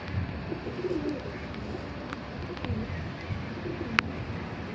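Pigeons kept by a hobby breeder coo softly in a loft, a low continuous murmur of several birds with a brief sharper chirp near the end.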